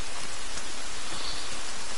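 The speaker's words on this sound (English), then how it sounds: "Why does it always got us rain and thunder when I play the game?" Steady rain falling in the video game The Forest, a soft continuous hiss with no distinct drops, faint and even throughout.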